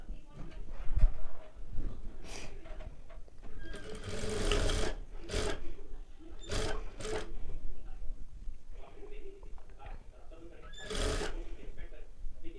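A domestic sewing machine runs in short bursts while stitching a katori blouse, the motor whirring in fits with pauses and small handling clicks between, close by, with someone talking over parts of it.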